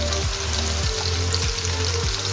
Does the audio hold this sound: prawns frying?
yes